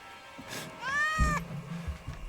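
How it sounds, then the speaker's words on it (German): A kitten in the Indiana Jones and the Great Circle video game gives one clear, drawn-out meow that rises and falls, over soft game ambience with a low rumble underneath. "Da ist wieder ein Kätzchen."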